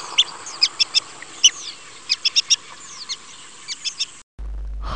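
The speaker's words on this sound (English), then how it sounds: "Muscovy duck," Muscovy duck giving a series of short, high chirping calls, about a dozen in uneven bursts, close and clear with no talking, ending abruptly.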